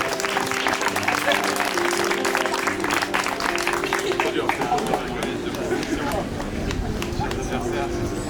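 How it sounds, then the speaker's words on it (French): Spectators applaud after a chess match, a steady burst of clapping mixed with lively chatter and overlapping voices that continues throughout, moderately loud and busy. "Victoire des Blancs, on peut les applaudir"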